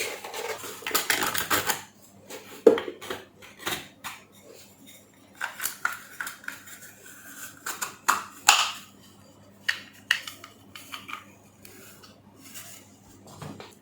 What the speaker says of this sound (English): Now I will use 11mm ratchet and in the socket, and I will remove this bolt.